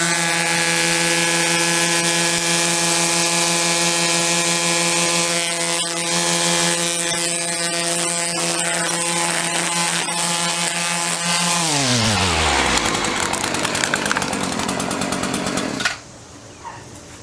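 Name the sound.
string trimmer running STIHL CF3 Pro trimmer line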